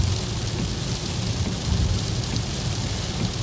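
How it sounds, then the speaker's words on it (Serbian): Heavy rain pours down outdoors in Ireland, a dense, steady hiss and patter that holds at an even, loud level throughout, with no voices. "Evo, kiša sve jače pada"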